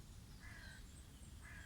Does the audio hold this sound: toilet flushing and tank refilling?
no